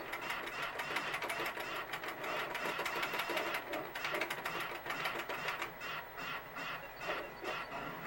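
Centipede arcade game running on a replacement PCB, playing its rapid, chattering electronic sound effects of things falling down, loud and busy throughout with a dense, steady rattle.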